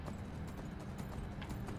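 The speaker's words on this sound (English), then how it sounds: "This horse is dangerous." Horse hooves clip-clop in Skyrim as the horse is ridden, a steady close rhythm of muffled thuds running without pause over a dense game background.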